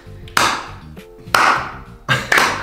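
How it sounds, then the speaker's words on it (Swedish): Three loud, sharp claps sound up close, evenly spaced about a second apart, each ringing briefly before fading. "Varför klappar du?"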